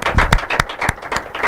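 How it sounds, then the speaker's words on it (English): At a school quiz and debate competition, an audience breaks into brief, uneven applause, with several bursts of clapping close by over roughly a second and a half. "A round of applause for them."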